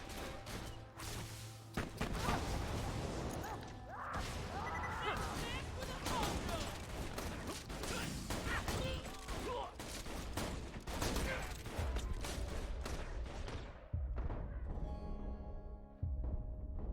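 Rapid gunfire from a weapon in a video game, with dense, loud bursts of shots and crashing impacts filling nearly the whole stretch over busy game sound, before thinning out near the end.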